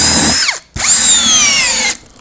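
A Masaru cordless brushless drill with a plastic ABS body runs loud and close in two bursts, whining up, cutting off briefly, then spinning steadily before stopping.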